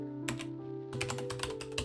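Quick keystrokes on a computer keyboard come in short bursts, a brief cluster and then a faster run of clicks, close and fairly quiet over a faint steady hum.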